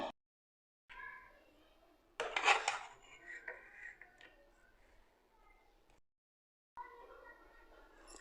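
Utensils clink and scrape against a dish as creamy chicken karahi is served out, with scattered metallic knocks and rubbing broken by brief silences.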